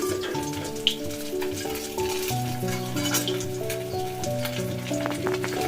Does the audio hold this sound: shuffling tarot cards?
no